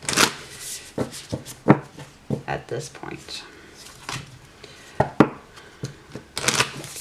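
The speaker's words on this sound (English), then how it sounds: "Give it one more shuffle, just for the heck of it." A deck of tarot cards is shuffled by hand in quick bursts of crisp riffles and slaps, close and fairly loud, with pauses between strokes and a voice speaking briefly over them.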